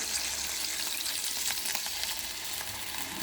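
Ragi ambali mixture being stirred in a pot, with a continuous close hiss and soft bubbling while the spoon keeps moving, alone and without talk.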